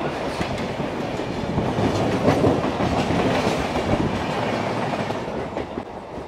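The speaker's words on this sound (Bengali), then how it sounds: "আরও একটা ট্রেন ক্রস করছে পূর্বা" Purva Express crossing another train on an Indian railway line: a dense, continuous rumble with rapid wheel clatter, loud and close throughout, with no voices.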